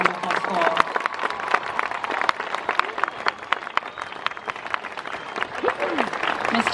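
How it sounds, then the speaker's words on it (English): Audience at a school ceremony applauding, a steady, dense crowd of clapping hands holding at moderate loudness from start to finish. "Please join me, all of us, in applause to honor and recognize them"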